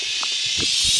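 A dense, steady high-pitched insect drone fills the air, with a few soft rustles and light footsteps beneath it.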